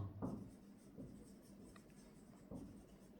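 Chalk or marker strokes on a classroom board while writing molar mass, a few short scratchy bursts spaced apart with quiet pauses between, close and fairly soft.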